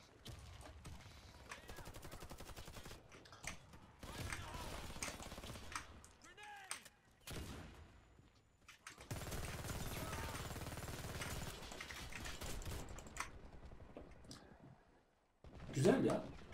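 Rapid automatic fire from a Magpul FMG-9 in the Warface video game, long fast bursts crackling through a busy match, mixed with other game sounds and someone talking over it.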